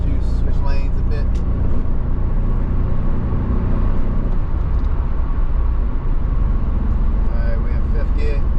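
Steady cabin drone from a 1993 Nissan 300ZX cruising in fifth gear, continuous engine and road rumble with wind noise, short speech-like bursts near the start and end.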